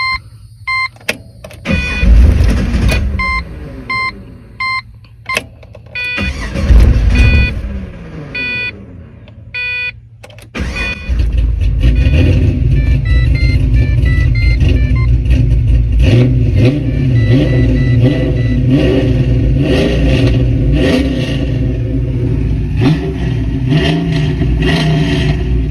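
A pickup truck's engine cranks and catches after a fuel pump repair, stumbling through a few brief tries before settling into a steady, loud, close running idle with slight revving throughout.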